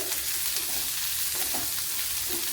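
Shallots and green chillies sauté in a pan for a Kerala thoran, giving a steady close sizzle with occasional stirring scrapes throughout, and no voices.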